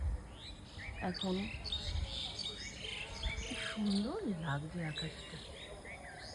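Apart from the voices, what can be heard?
birds chirping at dawn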